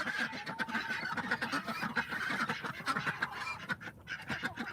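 Several ducks on a small farmstead quack and honk continuously at close range, overlapping calls forming a busy, noisy chorus with no talking.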